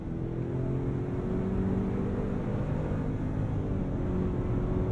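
A 2022 Ford Expedition Stealth Pack pulls along in third gear with a steady, even engine drone and road rumble, heard from inside the cabin with no one talking.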